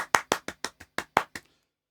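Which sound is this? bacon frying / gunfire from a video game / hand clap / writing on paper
hand clap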